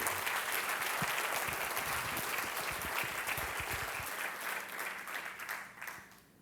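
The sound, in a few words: congregation applauding in church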